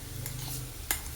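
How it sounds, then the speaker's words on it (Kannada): Spice powder frying in a pan while being stirred for a Karnataka-style rice dish, a steady close sizzle with one sharp scrape of the utensil near the end. "ಹಸಿ ವಾಸನೆ ಹೋಗೋವರೆಗೂ ಫ್ರೈ ಮಾಡ್ಕೋಬೇಕಷ್ಟೇ"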